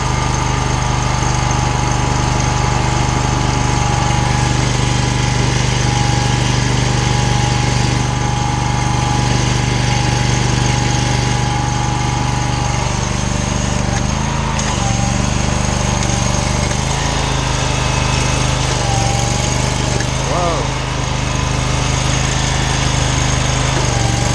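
A gas pressure washer engine runs loud and close, holding a steady, continuous drone throughout.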